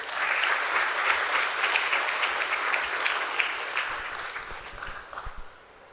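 Audience applause at a stock market listing ceremony for Nuvama Wealth Management, steady dense clapping from a crowd that holds for several seconds and then tapers off near the end.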